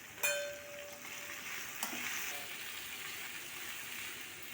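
Okra fries in a pan with a soft, even sizzle, opened by a sharp clatter of a utensil and a second knock partway through as it is stirred.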